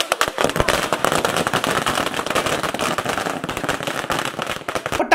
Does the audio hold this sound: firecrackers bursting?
yes